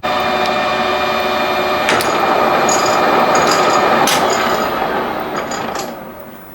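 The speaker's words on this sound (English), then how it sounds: "started the lathe up with the tool not engaged" Metal lathe spinning up and running with the cutting tool disengaged, a steady loud mechanical whir with bright tonal whine and a few sharp clicks, winding down slightly near the end.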